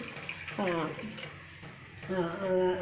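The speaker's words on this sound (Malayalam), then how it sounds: "ഞങ്ങൾ രണ്ട് ഗ്ലാസ് വെള്ളം ഒഴിച്ചു" Two glasses of water run steadily into a pot on an induction stove while a person speaks briefly over the splashing.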